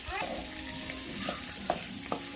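Seeds for a tempering sizzle and crackle in hot oil for a ridge gourd curry, with a steady frying hiss and a few sharp pops, close by.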